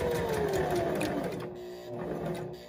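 A sewing machine stitches fabric during a pivot practice exercise, a close mechanical whir with a faint whining tone that eases and resumes.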